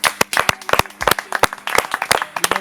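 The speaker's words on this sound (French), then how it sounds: "Je pense qu'on peut applaudir quand même." A small group claps after a mountain bike trial event in France, with sparse, uneven individual hand claps that ring out close and distinct, plus some faint background tones.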